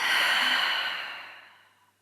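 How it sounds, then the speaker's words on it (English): A long, deep exhale through an open mouth during a calm yoga session, a single breathy whoosh that starts strong and fades gradually to silence over about two seconds, close and clear. "Open the mouth, exhale."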